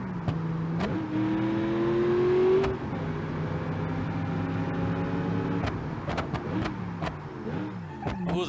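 A car engine fitted with a nitrous kit in BeamNG.drive idles steadily, then rises into a brief rev that climbs in pitch before dropping back. A few sharp clicks follow near the end.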